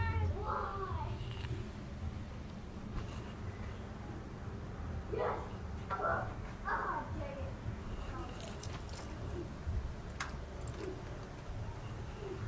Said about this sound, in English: You can keep meowing all you want.